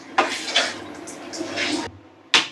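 Clatter of a cooking pot and lid as rice is set on to cook in a home kitchen, a few short metallic knocks and scrapes with a rushing, water-like hiss between them, close and fairly loud.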